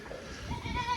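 Goats bleat in a barn during hay feeding, a couple of moderately loud, wavering calls close by with no talking.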